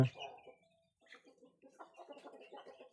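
A fighting rooster clucks and crows in short bursts, close by, with a loud opening call followed by a run of choppy fowl vocalizations.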